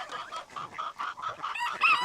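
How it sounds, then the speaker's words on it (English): Guinea fowl call in a rapid, rhythmic run of harsh, repeated cries, close and moderately loud, with a second bird joining toward the end. "we'll check on those guineas and make sure"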